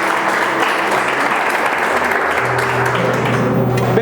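A congregation claps in church during an evening worship service. The applause is loud, dense and sustained, and a faint hum underlies it toward the end.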